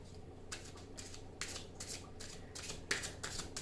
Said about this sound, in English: I was going to do one shuffle of the cards before I started this video